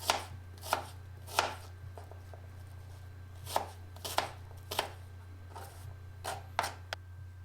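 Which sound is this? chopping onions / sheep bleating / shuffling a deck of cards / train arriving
chopping onions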